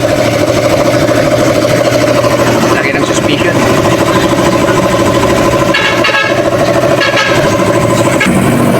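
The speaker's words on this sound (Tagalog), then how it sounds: "Starter ni Navara. Grabe makina, no?" A 2024 Nissan Navara engine runs at a steady idle, loud and close with the bay open during a service at a fuel station, while someone speaks over the constant hum.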